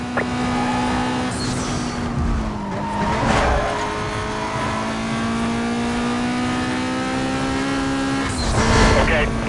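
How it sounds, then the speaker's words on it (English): A car in Need for Speed Most Wanted revs and pulls away with a sustained engine drone, accompanied by tire squeals and a second surge of acceleration near the end, with game radio chatter around it. "Okay, vehicle pulling away here."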